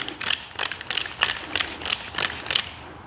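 A Snap-on torque wrench set to 70 ratchets in eight evenly spaced, crisp clicks, close and clear with nothing else sounding.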